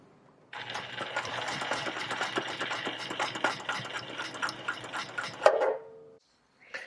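A Juki TL sewing machine stitches fabric along a ruler in a steady, close run of rapid needle clatter lasting several seconds, then ends with a small clink and a brief quiet.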